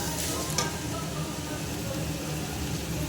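Water hits a pan of frying soybean and potato curry with a loud, dense hiss and bubbling, a short clank early on, then continuous sizzle to the end.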